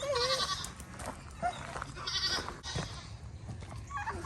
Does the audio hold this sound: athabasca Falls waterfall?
no